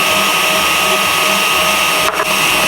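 A mixer whips egg whites with added sugar at moderate speed for chocolate tartlets, a loud, steady, unbroken whirring drone close by.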